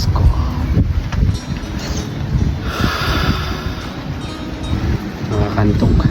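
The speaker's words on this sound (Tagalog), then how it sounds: "Mahangin, tsaka presko." Wind gusts buffet a microphone up in a treehouse, producing a low, rough rumble that rises and falls throughout, with a faint higher whoosh in the middle.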